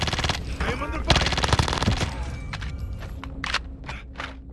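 Call of Duty Warzone gunfire bursts loudly in rapid automatic strings that thin out into scattered separate shots, with some footsteps and equipment clatter in a tense firefight.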